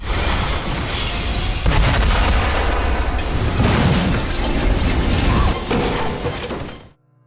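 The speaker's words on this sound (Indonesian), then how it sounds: "tungku uap yang ada di situ bocor dan mulai mengeluarkan gas hingga akhirnya meledak" A film's leaking steam boiler exploding in a loud, sustained blast, destroying a workshop, with crashing, shattering debris and rumbling that rolls on for several seconds before cutting off abruptly.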